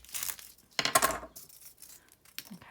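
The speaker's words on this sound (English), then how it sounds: "what would happen if I would make a diagonal cut like this?" Cutting diagonally through a rectangular prism model, with bursts of scraping and crunching slicing noise, nearby and moderately loud, followed by a few softer scrapes.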